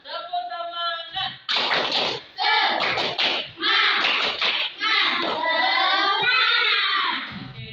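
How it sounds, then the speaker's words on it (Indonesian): Fifth-grade schoolchildren in a classroom do a rhythmic clapping cheer, bursts of group claps alternating with loud chanted voices in a lively, patterned sequence. "Oke, kita tepuk semangat."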